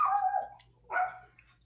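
Pet dogs barking indoors, two loud close barks separated by a short pause, with no talking over them.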